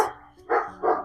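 Two or three short barks from a dog, fairly close and loud, with brief pauses between them.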